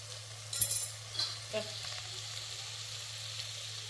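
Fried gobi (cauliflower) pieces tumble into a hot pan for gobi manchurian, with a brief clatter and hiss as they land, then a steady low sizzle that carries on after.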